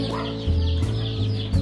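Chicks at an animal farm cluck and chirp close by in quick, repeated calls, loud and steady over a low ambient hum, with no talk.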